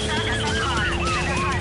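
A police siren wails in repeated rising and falling sweeps during a car chase in a driving video game, loud and close over a steady engine bed.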